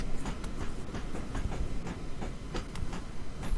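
Train running on the KWVR route in a train simulator game: steady rumbling rail noise with rhythmic clickety-clack beats and occasional sharp transients, continuous and fairly close, with no voices.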